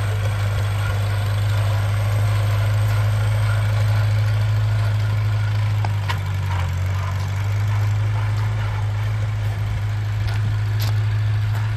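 A 1949 Farmall Cub tractor engine chugs steadily at idle, a low continuous thrum with faint knocking throughout, no voices.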